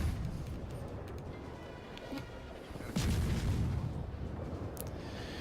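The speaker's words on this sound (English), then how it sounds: "You can see him looping some shells in right on Snake's position here, just based on where the gunfire is coming from." Naval shell gunfire in World of Warships: distant booming salvos with rumbling low-end blasts, one heavier burst near the middle, over a constant game soundscape.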